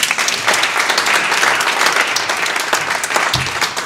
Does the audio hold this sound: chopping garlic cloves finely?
no